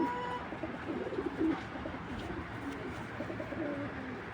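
Racing pigeons cooing softly nearby, a few low throaty coos rising over a quiet background hum.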